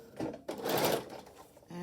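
A sewing machine runs in a short burst as it stitches a fabric mask with pleats, a brief whirring rattle after a soft click, then quiet handling noise.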